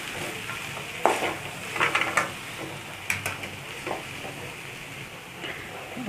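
Cabbage curry being stirred in a pan after chilli powder goes in, with a steady frying sizzle and scraping, clinking stirs close by, no talk.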